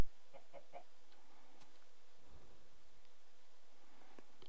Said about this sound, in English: That chicken says that.